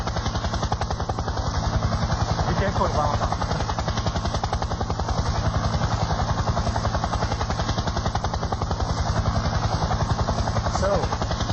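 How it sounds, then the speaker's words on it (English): A small remote-controlled helicopter flies indoors in a hotel room over a watching audience, its rotor giving a steady, close, rapid buzzing whir throughout, while a person speaks briefly over it. "going to fly the helicopter inside the audience"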